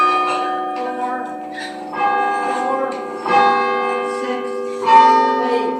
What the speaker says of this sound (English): this one has 14 bells with unique sounds